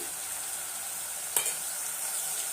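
Spices for a quick rice bath lunch-box dish fry in a pan with a soft, steady sizzle and a single brief clink of a spoon midway.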